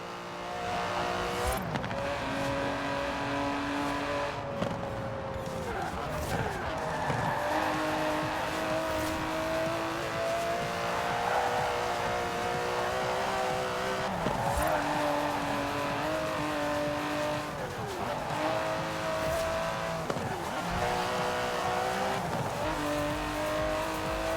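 An Aston Martin DB11 in Forza Horizon 4 drives with a steady, loud engine drone, its pitch rising and falling through gear changes, with occasional tire squeal over continuous road noise.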